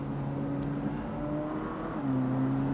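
A Ferrari 458 Italia engine pulls through a bend, a steady, moderately loud hum whose pitch dips and then settles near the end, with no talking.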